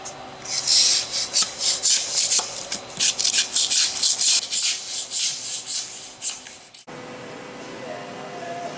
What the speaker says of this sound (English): we want to overfill the joints and then shave off the overfilled material